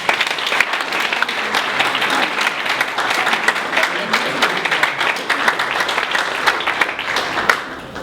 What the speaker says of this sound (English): one more time, a wonderful round of applause